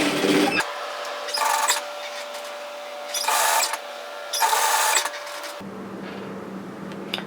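An overlocker finishes a bomber-style varsity jacket sleeve seam in several short, steady whirring bursts of a second or so each, close by, separated by quieter pauses, with a low hum continuing underneath.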